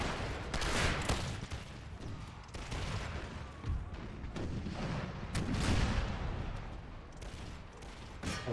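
Cannon fire in a modded Empire: Total War battle with Swedish forces, a continuous barrage of deep booms and cracking volleys rolling over one another, some near and loud, others distant, with no clear gaps.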